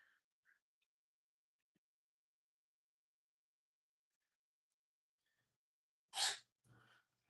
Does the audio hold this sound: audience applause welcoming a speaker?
no